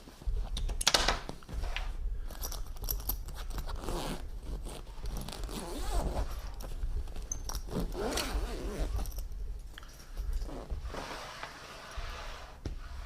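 Zipper on a simple clamshell briefcase bag with a front organizational pouch being pulled around the bag in several quick rasping runs, close and fairly quiet, with pauses and small handling rustles between.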